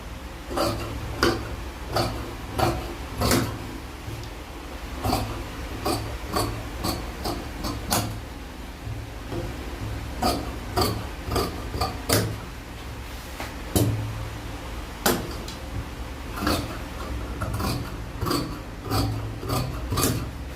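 Fabric being cut with scissors for a padded top with a snatched waist: a steady run of crisp, close snipping clicks repeating at a quick, even rhythm with soft rustling between, no voices.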